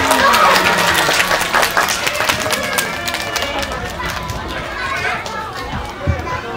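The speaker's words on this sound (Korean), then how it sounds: "자, 큰 박수로 맞아주세요." A cinema audience applauds and cheers to welcome the Pororo costume characters, dense clapping and crowd noise that is loudest at first and then thins, with a presenter talking over it.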